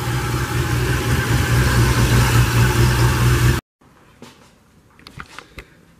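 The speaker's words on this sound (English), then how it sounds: "Car's done, running great." Turbocharged LS V8 swapped into a Mazda Miata running at a steady, loud idle up close, then abruptly cut off, followed by faint clicks and quiet handling noises.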